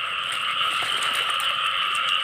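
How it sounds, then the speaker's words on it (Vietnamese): A large frog croaks steadily at night after rain, a dense, continuous trilling chorus held at an even, moderate level with no voices present. "Ôi con ếch siêu to trời ơi, cái nè cả nhà thấy ếch chưa"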